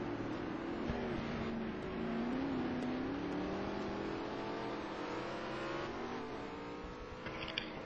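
A race car in the ETC Black Cup at the Nürburgring holds a steady, loud engine drone with a rising and falling pitch as it passes the finish line, continuous throughout and without talk.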